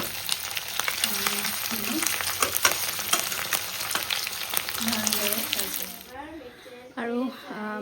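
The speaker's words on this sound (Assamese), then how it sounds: "আৰু মাছখিনি ফ্ৰাই হয়" Fish frying in hot mustard oil in an iron wok gives a steady, loud, close sizzle with crackles and stirring, while a voice speaks over it; the sizzle drops away near the end as talk continues.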